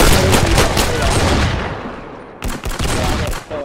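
Rapid gunfire from the video game Arsenal, dense overlapping shots that fade out briefly before a new burst of sharp cracks resumes, loud and close.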